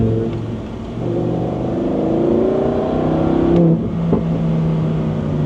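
A Lamborghini Huracán LP 640-2 engine revs loudly and steadily in sport mode, rising in pitch, dipping briefly, then roaring again, heard up close.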